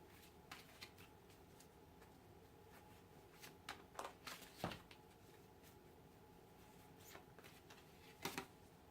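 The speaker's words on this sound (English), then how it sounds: "I'll shuffle the oracle deck." Quiet shuffling of an oracle card deck: soft papery riffles and light slaps of cards, irregular bursts growing busier midway and again near the end, close and faint, with no voices.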